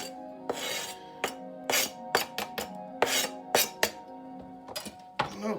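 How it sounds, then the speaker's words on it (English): A knife roughly chopping pineapple pico de gallo ingredients on a board, heard as irregular, close, crisp strokes and thumps with scraping, about a dozen in quick succession, with no talk. "You can rough chop it however you like."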